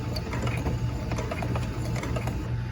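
A sewing machine back stitches a seam on a quilted tote, a steady close mechanical chatter of rapid needle strokes running continuously at moderate loudness.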